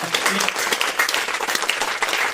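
Brief burst of studio audience applause on the Kaun Banega Crorepati quiz show, dense scattered clapping at steady volume with no talking over it.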